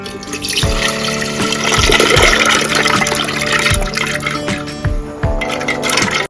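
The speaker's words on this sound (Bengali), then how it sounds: "যতটা জল নিয়েছিলাম এখানে আমি আরো একটু জল অ্যাড করে দিচ্ছি, যাতে মটরটা খুব ভালো করে সেদ্ধ হয়ে যায়" Water pours steadily into a pressure cooker holding soaked dried peas for ghugni, a continuous close splashing fill with a few soft knocks and thuds running through it.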